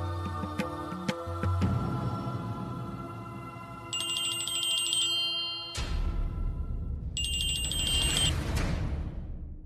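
A telephone rings with electronic trilling bursts layered over background music, coming in two separate ringing spells.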